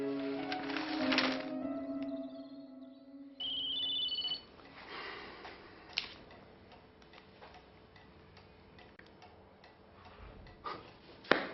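A telephone rings in a 1999 French television film: tonal ringing bursts come first, then a steady ticking and a short electronic trill, with no talk.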